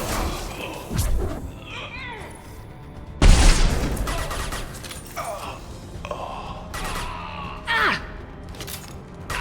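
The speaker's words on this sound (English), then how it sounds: "Firing an impact shot!" Impact shots boom out in the Mass Effect 2 Legendary Edition video game, with a few heavy, punchy blasts and thuds scattered among combat whooshes, while voices speak throughout.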